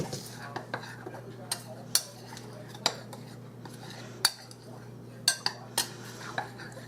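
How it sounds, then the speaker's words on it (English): A utensil stirs flour in a bowl, making light repeated clicks and scrapes against the bowl at an uneven pace over a low steady hum. "now I'm going to give this a little bit of a stir"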